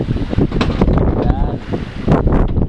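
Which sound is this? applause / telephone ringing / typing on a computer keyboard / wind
wind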